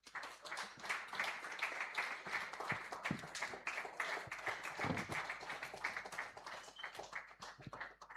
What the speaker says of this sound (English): Can we please have a round of applause again?